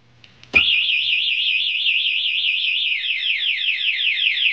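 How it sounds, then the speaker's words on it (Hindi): A two-way HJG motorcycle alarm remote starts beeping after a brief touch or click, then holds a continuous, loud, warbling electronic tone close by that pulses rapidly in pitch throughout. "ये रिमोट वाइब्रेशन कर रहा है और बीप भी कर रहा है"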